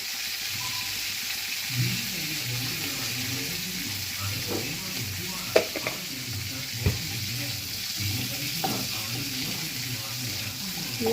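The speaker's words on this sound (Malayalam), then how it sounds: "കടുക് പൊട്ടുന്നുണ്ട്" Hot oil, left from frying prawns, sizzles steadily in a pan while mustard seeds pop and crackle sporadically, with a few sharper snaps standing out.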